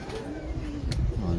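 Domestic pigeon of top show quality cooing in low, rolling bursts close by, with faint background chatter and noise.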